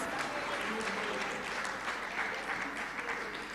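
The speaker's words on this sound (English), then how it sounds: "Give him another round of applause." Sustained applause from an award-ceremony audience, a thick, even wash of many hands clapping that holds steady throughout, with faint voices mixed in.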